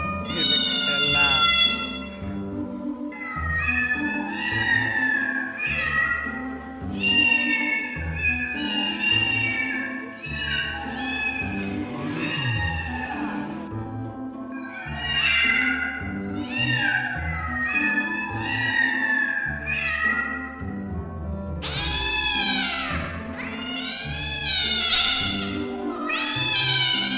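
A cat meows repeatedly, loud and close, in a long series of drawn-out, rising and falling cries separated by short pauses.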